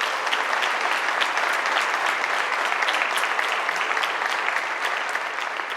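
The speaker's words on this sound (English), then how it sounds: "Let's give them a big round of applause." Sustained audience applause at the opening of a student center, a dense, steady patter of many hands clapping throughout without a break.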